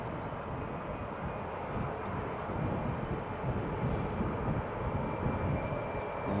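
Emirates Airbus A350 landing at Newcastle International Airport, a steady broad rumble of jet engines holding even and moderately loud throughout, with no voices.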